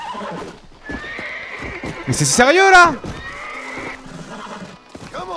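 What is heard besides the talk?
horse neighing in a video game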